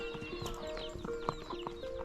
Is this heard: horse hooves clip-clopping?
yes